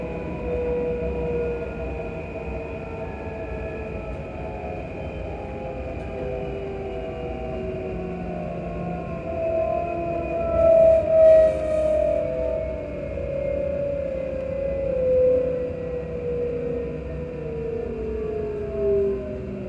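Whine of a ScotRail Class 334 electric train's traction motors heard from on board, a steady rising and falling tonal hum over low rumbling running noise, continuous throughout with no talk.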